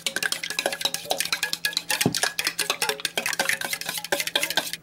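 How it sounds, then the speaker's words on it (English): A hash brown mixture is whisked in a bowl, the whisk clicking and scraping in rapid, steady strokes close by, with no talking. "you're going to give those a good mix together. Whisk if you have it."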